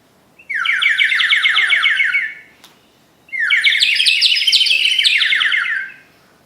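Two long bursts of bright, fast warbling whistles from a Guatemalan water-filled bird whistle, bubbly and trilled, each lasting about two seconds with a pause between.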